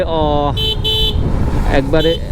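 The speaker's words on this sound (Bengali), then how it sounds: "আরে কাকুরে হর্ন দিলাম" A motorcycle horn honks twice in short bursts close by, over steady engine and road rumble, followed by a brief rising toot.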